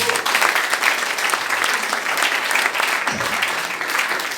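A church congregation applauds and cheers for Jesus during a sermon by a pastor, producing sustained dense clapping from a large crowd that carries on without pause.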